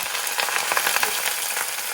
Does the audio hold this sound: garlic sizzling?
yes